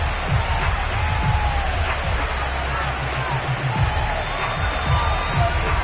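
A large football crowd at FedEx Field before a game against the New York Jets, a dense and continuous roar of many voices with scattered shouts, fairly loud and close.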